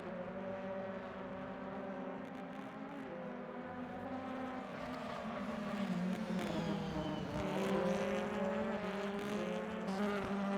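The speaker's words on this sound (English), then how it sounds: "Hopefully you can hear the cars and myself." Touring cars racing in a video game at Brands Hatch, a continuous droning mix of many engines buzzing and whining together at a steady, moderately faint level with no talk.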